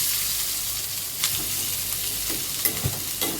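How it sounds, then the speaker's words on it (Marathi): Onion frying in a little oil after coconut was roasted, a dense continuous sizzle close up with occasional spoon scrapes and stirring clinks. "तेल थोडस आहे ना त्यामध्ये कांदा घेऊ टाकून"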